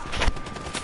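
Gunfire in a first-person shooter game: a short burst of shots rings out, one sharper report standing out near the middle, set against steady game ambience.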